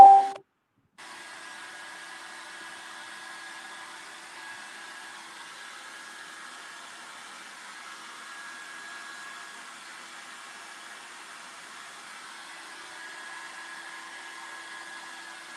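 Hair dryer blowing on alcohol inks, a steady, faint, continuous whirring hiss that holds for about fifteen seconds after a brief clunk at the start, with no talking.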